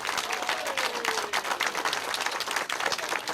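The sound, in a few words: applause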